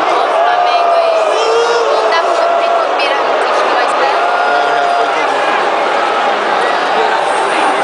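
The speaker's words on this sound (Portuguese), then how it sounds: "Ali a torcida do Grêmio, Neymar." A stadium crowd in China, including Grêmio supporters among Brazilian fans, roars in a dense, continuous wall of cheering and shouting, distant and even throughout, with a voice speaking nearby over it.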